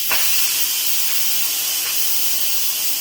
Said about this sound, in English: all that steam is gonna go straight up